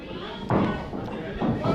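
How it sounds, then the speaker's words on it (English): In a wrestling ring, a heavy body slam hits the mat with a dull thud, followed by another impact, amid crowd noise and ringside commentary. "Mongo showing the strength, once again slamming Justice."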